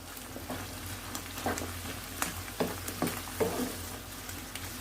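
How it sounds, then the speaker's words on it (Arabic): Chicken and mushroom filling for briouats frying in a pan, stirred so the released water cooks off; a steady close sizzle runs throughout, with soft scraping stir strokes recurring every second or so. "غادي نبقى نحرك بحال هكا كيف ما قلت لكم حتى يتقلى لنا الشامبينيون ديالنا حتى هو"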